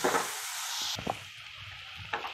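Onion sautés with salt in a pan on a high flame, a steady close sizzle broken by a few light scraping stirs.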